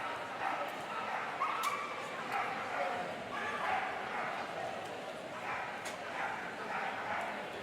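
Dog barking and yipping during a medium-height agility jumping run at the 2018 World Championships, with short repeated barks over arena crowd noise and commentary.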